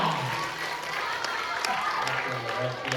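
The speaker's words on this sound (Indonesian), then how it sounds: "tepuk tangan yang meriah" An audience at a school theatre performance claps in a sustained, dense round of applause, with voices mixed in beneath it.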